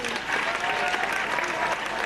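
Brief burst of audience applause at a live televised public event, steady clapping from a crowd filling the whole moment.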